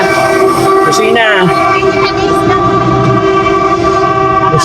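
A vehicle horn sounds loud and sustained on a busy road, tones held under steady engine rumble while people call out nearby.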